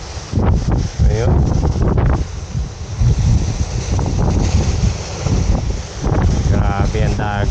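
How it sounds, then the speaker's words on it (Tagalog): Heavy sea waves and strong wind after a downpour at the Baseco fishing spot, loud continuous roaring gusts battering the microphone with surging water, brief voices rising through the noise. "ang lakas ng lalaki ng alon"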